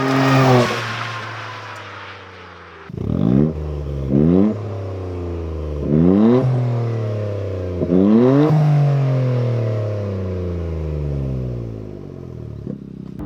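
A Toyota GR Corolla fitted with an Invidia high-flow downpipe revs its exhaust several times, sharp rising blips over a throaty, steady idle, loud and close with no talking.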